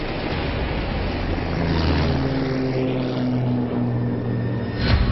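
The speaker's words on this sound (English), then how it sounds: "There's a plane right there." Propeller airplane flying over desert red rock canyons, a steady droning engine hum that swells and shifts in pitch as it passes, loud and continuous with no talk.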